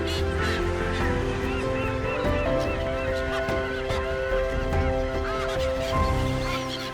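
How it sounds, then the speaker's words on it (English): Terns call at sea in a busy chorus of harsh, repeated cries that overlap continuously against a steady background rumble, many birds at varying distances. "These amazing terns really are true birds of the sea."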